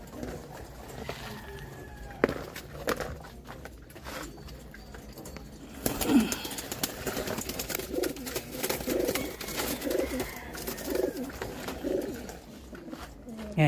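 Pigeons coo in a breeder cage, their soft repeated throaty calls rising and falling mid-clip over a busy background of shuffling and low rumble.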